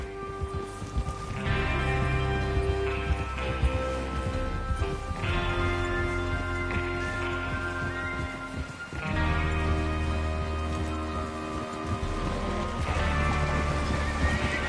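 Video game horses snort and whinny amid a steady clatter of hooves, layered over a continuous tonal musical backdrop.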